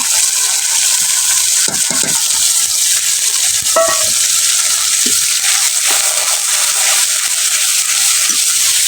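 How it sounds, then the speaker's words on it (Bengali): A spice paste of mustard, ginger, turmeric and chili fries in hot oil, a steady loud sizzle with intermittent scraping stirs and clinks of a spoon against the pan, no voices. "মশলাটা ভালোভাবে কষাই নিতেছি"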